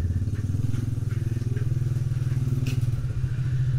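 A delivery courier's motorcycle idling nearby, a steady low rumbling engine throb with a fast pulsing beat holding at constant loudness throughout, light clatter on top, no speech.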